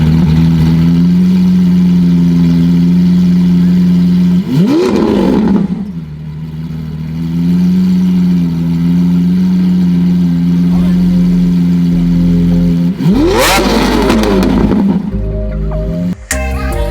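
Mercedes E63 engine idling with a steady low rumble, then two sharp loud revs blipping up and falling back, one around five seconds in and another near thirteen seconds, close by with faint voices in the background.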